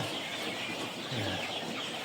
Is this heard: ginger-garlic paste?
no